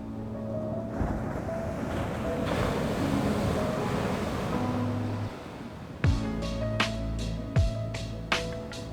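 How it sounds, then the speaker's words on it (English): Waves wash onto the shore at Oliva Beach on Spain's Costa Blanca: a broad rushing surf with wind for several seconds, then sharper, closer clattering sounds toward the end. "the sound of waves crashing on the shore"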